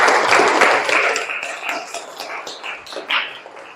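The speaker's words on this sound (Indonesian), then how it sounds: "Tepuk tangan untuk Wisnu." A classroom of students applauds a classmate with dense, lively clapping and some cheering that gradually thins and fades, ending with a brief final burst.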